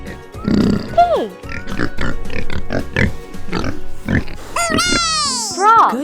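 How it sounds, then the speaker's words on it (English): A pig grunts and oinks, with squealing, rising and falling calls, mixed in with a voice talking, fairly loud and close. "pig."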